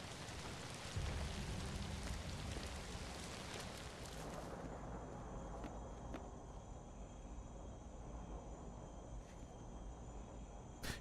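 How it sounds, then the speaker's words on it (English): Steady rain hissing across surfaces inside the ZOMBI video game, loud and continuous at first, then thinning to a fainter patter with a few sharp drips. "it was raining indoors for a second there"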